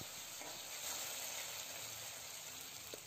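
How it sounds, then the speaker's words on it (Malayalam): Cooked broken wheat being stirred into hot fried ghee for a jaggery payasam, giving a faint, steady sizzling hiss that runs evenly throughout with no talking. "ഇത് നമുക്ക് ഈ വറുത്തെടുത്ത നെയ്യിലേക്ക് തന്നെ ഒന്ന് ചേർത്ത് കൊടുത്ത് ഒന്ന് ഇളക്കി കൊടുക്കാം."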